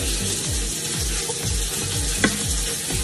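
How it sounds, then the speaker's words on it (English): A used cutting board is scrubbed by hand during dishwashing at a sink, making a steady series of rhythmic, close, rough scrubbing strokes with a brief knock near the end. "next I have a cutting board that I just used. So I'm gonna go ahead and scrub it."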